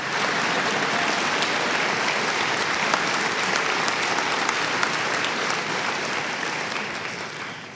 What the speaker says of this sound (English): please give an applause to my friend Gerard Schneider